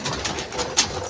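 Pigeons cooing nearby in a loft or coop, a soft steady murmur of low coos with a brief sharper call near the end, no talking.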